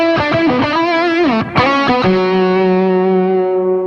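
Electric guitar played through an old TubeWorks tube driver set for high gain, giving a warm, fat distorted tone: a quick run of bent notes, a brief pause, then a loud sustained chord ringing out alone.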